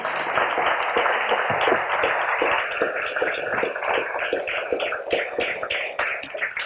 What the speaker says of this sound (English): did I actually hear you clapping seriously for these people?